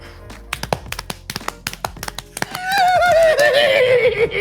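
A person imitates a horse whinny with their voice, a wavering, quivering neigh that rises loud and close after a run of sharp taps and clicks, with no talk over it.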